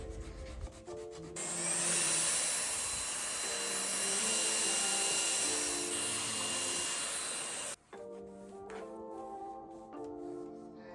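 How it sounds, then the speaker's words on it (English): Sanding on a small wooden cabinet between primer coats makes a continuous quiet hiss that lasts several seconds and then stops. Faint brief taps come before and after it. "we always sand after every coat of primer and every coat of paint"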